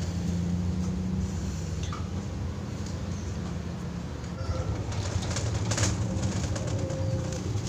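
Soft, repeated zebra dove (perkutut) coos sound under a constant noisy background rumble, fairly faint and blending into the steady din.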